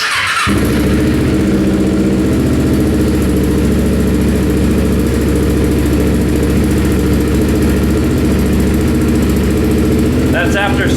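A carbureted Kawasaki Ninja 250R motorcycle, started cold after sitting overnight at about 45 degrees, rumbles at a steady, loud idle close by, with a brief catch at the start and a faint sound near the end.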